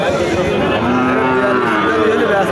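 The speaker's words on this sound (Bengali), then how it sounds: "দেশি জাতের বাসুর দেশি বকনা বাছুর গরু" A desi heifer calf moos in one long, drawn-out call, rising and wavering, over a noisy outdoor background of a busy cattle market crowd.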